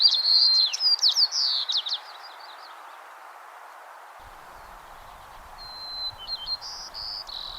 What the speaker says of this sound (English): generally you can tell when a white-crowned sparrow is a white-crowned sparrow